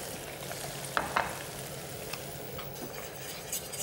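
Spätzle are tossed in sizzling butter in a pan, a steady close frying hiss with two or three brief scraping knocks as the noodles are turned.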